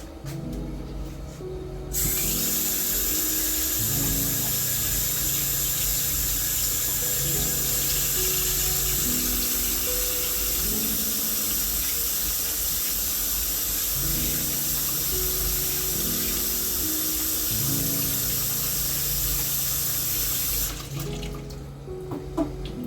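A kitchen tap runs in a strong, steady stream while hands are washed, the close, continuous gush broken by a shifting splash pattern until it is shut off near the end.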